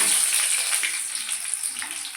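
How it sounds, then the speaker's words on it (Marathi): Chopped onion hits hot oil in a pan, giving a loud, steady, hissing sizzle that fills the space continuously and fades only slightly toward the end. "थोडं घालू आपण कांदा"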